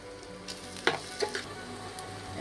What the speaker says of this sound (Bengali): পেঁয়াজটা একটু লাল করে ভাজবো সামান্য একটু নুন দিয়ে দিচ্ছি